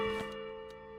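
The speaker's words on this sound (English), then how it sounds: "Oh, morning bells." Morning bells toll in the video game Pathologic 3, a sustained, ringing tone with steady overtones and a renewed strike partway through, fairly loud and alone.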